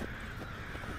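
A crow cawing in the video game Life is Strange: Before the Storm, a single harsh caw over a steady background hum, moderately distant and faint.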